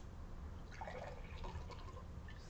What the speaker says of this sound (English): I'm pouring each water into each glass